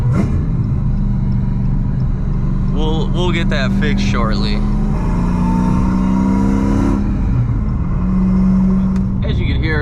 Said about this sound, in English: As you can hear, it's got a little bit of burble, but I think that's just because it's running rich.